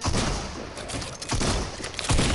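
Dense bursts of gunfire from a shooting video game on a custom map, including a heavy AK, with rapid overlapping shots and thuds that are loud and continuous, no speech.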